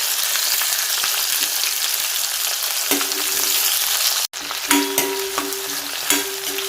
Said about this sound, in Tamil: சின்ன வெங்காயம் அந்த எண்ணெயில் நல்லா வதங்கணும்.